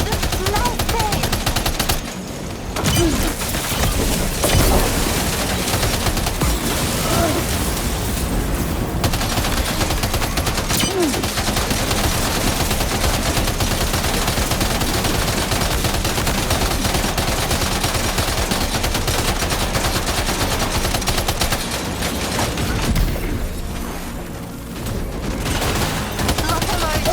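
Video game gunfire from Death Stranding 2: dense, loud automatic bursts and rapid shots rattle almost without pause, layered over game effects and a few brief gaps.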